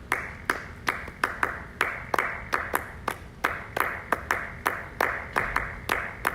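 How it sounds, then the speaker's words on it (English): Hands clap out a Balinese gamelan drum rhythm, crisp sharp claps close up in an uneven repeating pattern of quick pairs and single strikes, alone and fairly loud. "So like if you clap this rhythm,"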